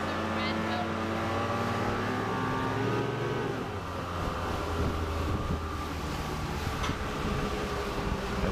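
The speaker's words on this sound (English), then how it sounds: "of the Mercury engine and how it easily gets the boat out of the hole and into a plane with maybe one-third throttle" A Mercury outboard engine drives a boat up out of the hole onto plane at about one-third throttle, a steady loud drone with wind and water rush throughout, close to the microphone.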